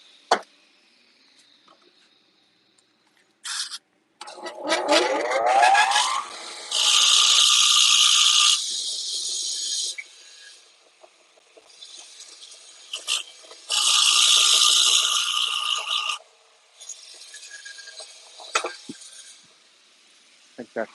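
A TIG welding tungsten electrode being sharpened on a grinder, with several sustained high whining grinding passes broken by short pauses, mechanical clicks and a brief spin-up whir, all loud and close.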